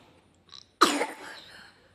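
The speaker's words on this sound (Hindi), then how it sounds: "कितनी तेज़ खांसी हो गई इसको," A child's single sharp, harsh cough bursts out close by after a brief faint breathy sound, then trails off into a raspy exhale.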